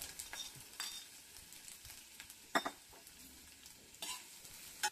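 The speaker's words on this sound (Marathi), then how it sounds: "आता आपण कांदा परतून घेऊया, लालसर होईपर्यंत कांदा परतायचा।" Onion sautéing in a spoonful of oil in a pan, a quiet steady sizzle with occasional stirring scrapes and clicks of a spoon, close but faint.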